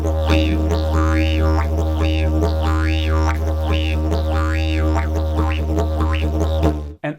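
A didgeridoo played in a distinctive player's style, a continuous low drone with a rhythmic, repeating vocalised pulse and wah-like overtone sweeps, loud and close, cutting off abruptly at the end.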